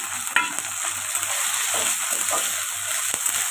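Chopped tomato frying in a pan with ginger-garlic paste makes a steady, close sizzle, with a spatula stirring and scraping through it in a few soft strokes.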